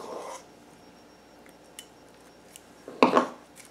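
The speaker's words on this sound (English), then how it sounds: "I'm just going to go over the cupcake with a butter knife with the green frosting" A butter knife spreads green frosting over a cupcake: a soft scrape at the start, near-silence, then a louder, brief scraping clatter toward the end.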